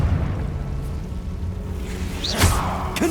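A Confringo spell in a Harry Potter video game goes off as a rising whoosh and a loud burst with a fiery crackling tail, over a low ambient rumble.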